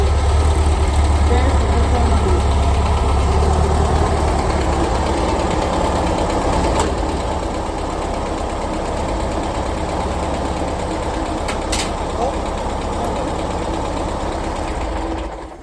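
A 1970 VW Karmann Ghia engine runs at a steady, loud idle close by, a continuous rumbling drone that holds for the whole stretch and dips slightly partway through.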